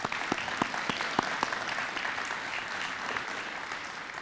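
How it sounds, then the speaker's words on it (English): An audience at a university awards ceremony applauds, a dense steady round of clapping from many people, sustained throughout without a voice over it. "Please join me in a round of applause."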